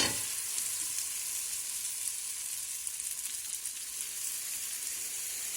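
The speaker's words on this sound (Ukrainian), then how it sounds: "Смажимо на середньому вогні, не треба дуже великий вогонь." Steady, close sizzling of zucchini batter frying in a pan over medium heat, a dense crackling hiss that holds evenly throughout with no talking.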